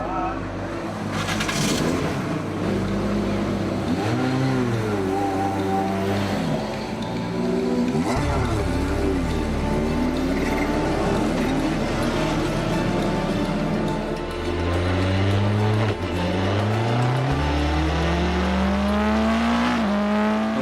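Formula 4 race car engines on a circuit, loud and continuous, rising and falling in pitch through repeated gear changes as cars accelerate and pass close by.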